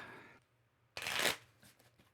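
Someone shuffles a deck of playing cards for a solo card game, one sharp, close riffle burst of about a third of a second after a quiet start, followed by softer card handling.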